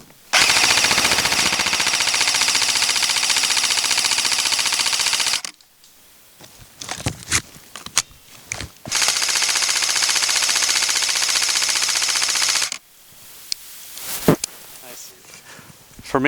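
An airsoft gun fires in full-auto in two long, loud, continuous bursts, each separated by quieter stretches of handling clicks and movement.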